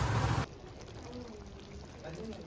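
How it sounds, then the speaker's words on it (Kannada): Water poured from a glass into a pot of rice while making spicy dum biryani, a loud rushing splash in the first half second, then a quiet kitchen background. "ಸೊ ಇದೇ ಗ್ಲಾಸಲ್ಲಿ 2 ಗ್ಲಾಸ್ ನೀರು ಕೂಡ ಆ್ಯಡ್ ಮಾಡಿದ್ದೀವಿ."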